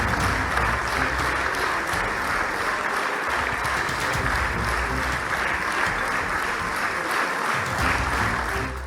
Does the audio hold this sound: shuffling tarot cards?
no